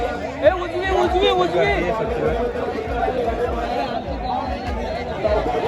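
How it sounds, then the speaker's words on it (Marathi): A crowd at a bullock cart race murmurs in a dense, steady babble of overlapping voices, mid-distance, with no single voice standing out. "सुट्टीवर गर्दी बघू शकता तुम्ही मित्रांनो."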